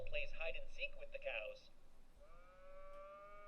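Cartoonish cow moos in the video game That Dragon, Cancer sound after a stretch of someone talking, several drawn-out lowing calls against soft background music.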